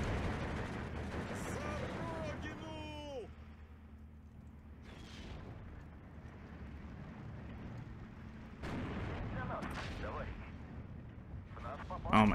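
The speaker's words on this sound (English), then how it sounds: "Artillery is fast and on point and annoying." Artillery barrages boom from the Steel Division 2 war game, loud broadband blasts at the start and again near the end, with rumbling battle noise and a tonal whistle in between; a voice speaks faintly.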